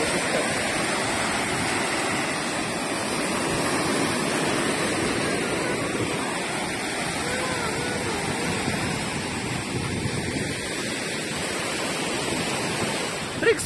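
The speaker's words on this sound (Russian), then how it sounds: "Волны, да." Sea waves wash and roar continuously, a broad steady rush of surf with no voices.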